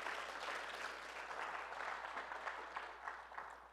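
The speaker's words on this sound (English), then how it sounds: "Give the Lord a hand clap of praise." A church congregation giving a sustained round of hand claps of praise, dense, steady clapping heard from a distance in a reverberant hall.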